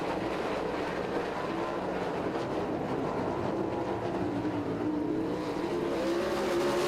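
410 sprint cars race through a heat at Lincoln Speedway, a dense continuous roar of engines that rises and shifts in pitch as the pack passes, no voices.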